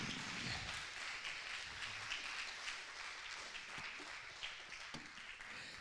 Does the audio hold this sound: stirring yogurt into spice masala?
no